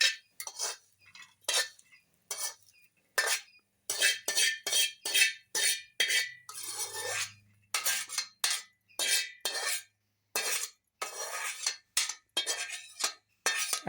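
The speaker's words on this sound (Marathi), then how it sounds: "हे आता मी दुसऱ्या भांड्यात काढून घेणार आहे" Cooked bitter gourd (karela) being scraped and spooned from a kadhai into another pot in a home kitchen, with a series of close metallic clinks and scrapes of utensil on pan in short bursts separated by brief pauses.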